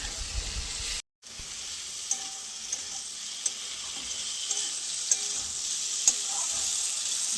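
Food seasoned with turmeric fries in a pan, a loud, close, steady sizzle with soft stirring clicks; the sound cuts out briefly near the start, then resumes evenly.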